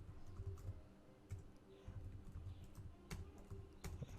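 Rapid clicking keystrokes from a computer keyboard sit very close to the microphone, an uneven run of soft taps with a few sharper clacks, heard alone and fairly quiet.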